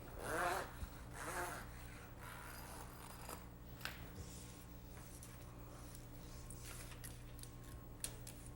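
Zipper being cut off a boot with a tool, heard as a couple of short rasping, scraping strokes up close near the start, then quieter handling and small clicks over a low steady hum.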